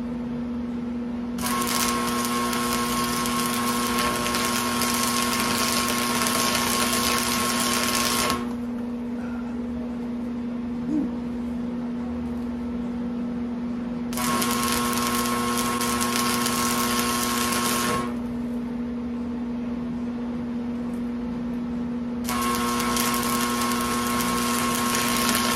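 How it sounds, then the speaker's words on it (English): MIG stitch welding on angle iron for a utility trailer ramp, three separate bursts of steady crackling hiss, each several seconds long, with a constant hum running underneath through the pauses. "Here I'm doing a little bit of a stitch weld back and forth"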